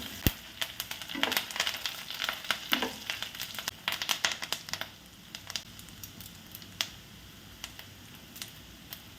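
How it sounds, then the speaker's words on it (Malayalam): Shallots, coconut and curry leaves sautéing in a pan, a soft close sizzle with irregular scraping and stirring clicks that thin out toward the end, no talk. "എടുത്തു വച്ചിരുന്ന കൊച്ചുള്ളി തേങ്ങ കറിവേപ്പില ഇത് ഇത്രയിട്ടൊന്ന് വഴറ്റിയെടുക്കാം"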